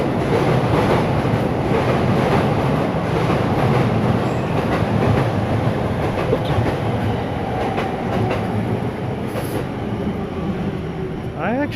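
Trains rolling past close by near a Tokyo station, a steady, loud rumble of wheels and cars that continues throughout, with a brief higher squeal near the end.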